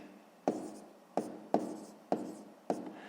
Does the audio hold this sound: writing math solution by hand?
yes